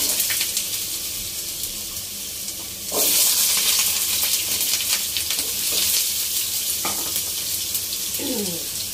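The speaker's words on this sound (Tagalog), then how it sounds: "Sa kabilang pan, nag-init naman ako. I-fry lang natin yung ating mga vegetable." Vegetables frying in a hot pan while cooking Filipino beef mechado, a steady close sizzle that swells louder after a few seconds as food is stirred, with occasional scraping and clinks.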